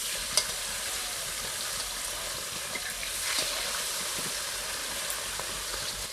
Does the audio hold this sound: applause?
no